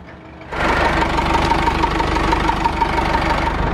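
A Land Rover Series 2a 109 engine, a 4DB1T, revs up at full throttle to drive a winch, starting quiet, then jumping to a loud, steady knocking diesel drone that holds without a break.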